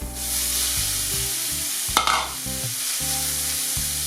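Ingredients for a turkey curry frying in a pan, a steady hiss of sizzling oil with one sharp clatter midway, under a low humming drone.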